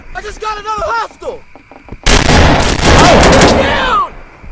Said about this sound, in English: Why are you shooting your teammate, bro?